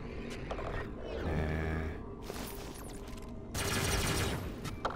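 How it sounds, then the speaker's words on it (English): Gunfire in the action game ReCore, two loud bursts of rapid shots amid growling mechanical game sounds and background music. "Who's shooting me? Who would dare shoot me?"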